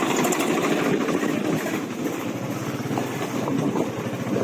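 A tractor engine passes on a road, a steady low rumbling drone with wind buffeting the microphone, loud and close throughout.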